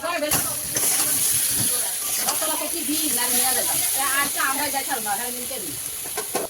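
Boiled taro and potatoes added to hot oil with salt, turmeric, chilli powder and chilli paste, frying in a pan with a continuous hissing sizzle while a voice talks over it.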